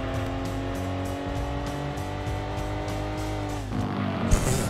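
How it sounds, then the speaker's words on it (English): Game car engine in Gran Turismo 2 buzzing at high revs against the rev limiter, a steady loud drone with rapid stuttering pulses, then dropping off near the end into a brief scrape. "I hit the rev limiter and everything there."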